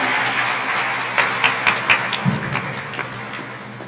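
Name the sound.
audience applause for the Vice Chancellor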